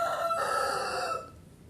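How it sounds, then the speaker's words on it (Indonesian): A rooster crows once, loud and close, in a long sustained call that cuts off abruptly near the end, leaving a quieter stretch of background hiss. "Nah, ayam berkokok tanda iya."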